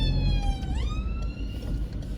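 An ambulance siren on a road in Blackburn, UK, wails loudly and steadily, its tone sliding upward partway through and holding a continuous rising-and-falling pitch as it approaches.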